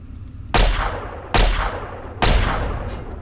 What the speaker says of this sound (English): Let's shoot him with something worthless,